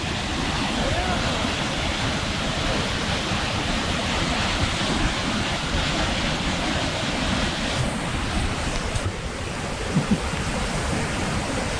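Constant roaring rush of falling water, loud and unbroken, with no talk audible.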